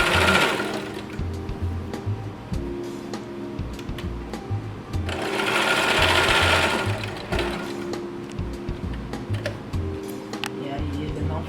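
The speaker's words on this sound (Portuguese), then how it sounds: "Vou costurar aqui no meio." A sewing machine stitches through elastic fabric in close, rapid bursts of mechanical whirring and ticking, stopping and restarting several times with brief pauses between runs, while someone speaks quietly at points.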